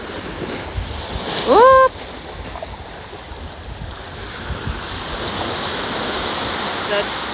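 Ocean surf at a beach at high tide keeps up a steady broadband wash of waves, with a short excited shout from a person near the start.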